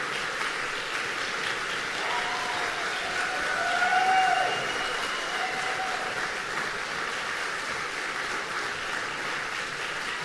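Sustained audience applause after a festival faculty chamber concert with cello, double bass and piano, a dense steady clapping that swells briefly midway, with faint whoops or whistles over it.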